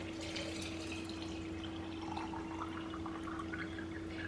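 Tap water pouring steadily into jars for homemade juice, a continuous close trickle and splash over a constant low hum, with no one talking.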